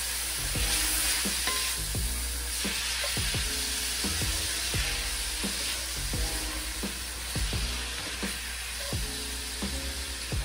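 Shrimp stirred into gluten-free fried rice in a hot pan, a steady sizzle under repeated scraping strokes of a spatula that land in an irregular rhythm, close and loud, with no talking.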